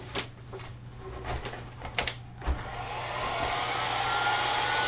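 A hair dryer blowing on wet paint, a steady whooshing hum that runs throughout and grows slightly louder, with scattered clicks and taps over it in the first half.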